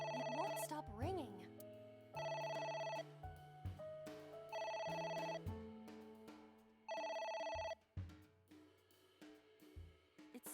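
Video game telephone ringing in repeated electronic bursts about two seconds apart, loud and close, with a person talking between and over the rings.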